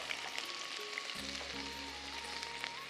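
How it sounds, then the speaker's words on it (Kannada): Crushed garlic sizzles and fries steadily in hot oil for a spicy khara kolambu, a continuous close crackling hiss over a low background hum, with no voices. "2 ಸ್ಪೂನ್ನಷ್ಟು ಜಜ್ಜಿ ಇಟ್ಕೊಂಡಂಥ ಬೆಳ್ಳುಳ್ಳಿ ಹಾಕೋಣ. ಇಲ್ಲಿ ಚೆನ್ನಾಗಿ ಫ್ರೈ ಆಗಲಿ."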